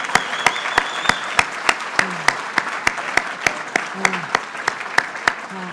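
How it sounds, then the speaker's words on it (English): Audience applause for New York's governor at a winter challenge event in the Adirondacks, heard as a steady wash of many hands clapping with sharp, rhythmic accents, loud and close, with no talk over it. "I'm going to suggest that we all give a huge round of applause to a governor who had the vision to bring us all together"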